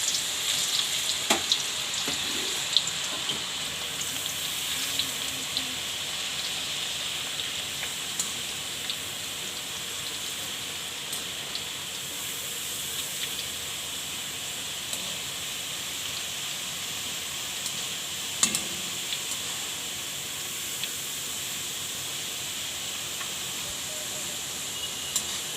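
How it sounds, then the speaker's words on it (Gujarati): Potato slices fry in hot oil for chevdo, a steady dense sizzle that crackles without a break. A few louder pops and clinks rise out of it now and then. "ને આપણે દાળ છે એ રીતે આપણે આને સરસથી તળી લેવાની છે."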